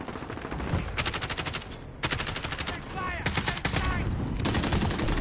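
Automatic gunfire from a Call of Duty Modern Warfare multiplayer match, with rapid bursts of shots running nearly throughout amid other battlefield game sounds.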